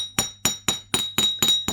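Thick metal wire being hammered flat for a handmade pendant: seven sharp, evenly spaced metallic strikes in a steady rhythm, close and loud with a ringing tone.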